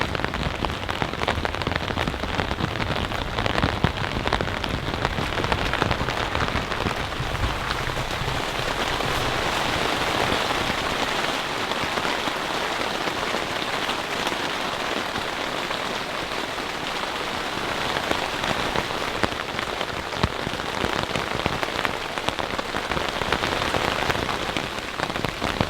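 Heavy freezing rain mixed with sleet drums steadily on the fabric of a NatureHike Ranch Fire tipi hot tent, a dense, continuous hiss of close drops that holds unbroken from start to finish.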